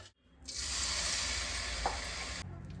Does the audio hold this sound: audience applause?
no